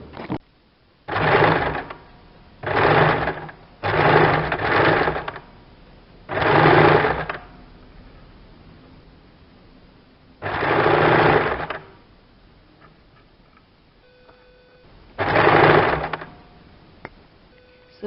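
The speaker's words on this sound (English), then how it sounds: "So first give it a machine stitch." An electric sewing machine stitches sleeves onto a kurti armhole in short repeated bursts of close, rapid whirring. Each burst is separated by a quiet pause.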